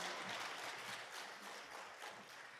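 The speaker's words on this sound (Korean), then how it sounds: "하나님 앞에 영광의 박수를 드립니다" Congregation at a Korean Methodist church service applauding as the pastor comes forward, a steady wash of clapping filling the room for the whole stretch at even loudness.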